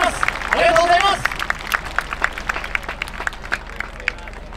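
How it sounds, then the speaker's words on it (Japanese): An audience at the Inuyama dance festival's final performance claps in a short burst that thins into scattered claps, with a voice speaking over it. "どうぞ拍手でお答えいただきたいと思います。"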